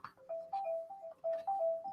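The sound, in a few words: phone ringing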